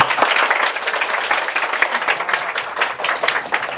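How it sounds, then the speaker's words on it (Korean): Warm applause from an audience welcoming an author to a talk, a close, full burst of many clapping hands with uneven pulses, continuing steadily throughout. "뜨거운 박수로 모시겠습니다"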